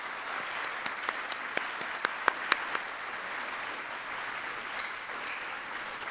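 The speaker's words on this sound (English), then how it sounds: "Roger, can you stand up if you're in the audience so we can give you a round of applause?" Applause from an audience as a student is honored at a Michelle Obama school event: a steady, moderately loud wash of clapping with a few sharp louder claps standing out early, fading gently toward the end.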